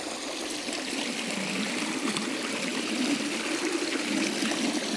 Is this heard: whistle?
no